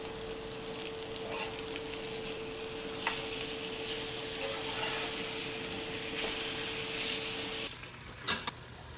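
A room-temperature steak and a cold steak sear in a hot pan, giving a steady, close sizzle with faint stirring and steam hiss, ending in a few sharp clatters.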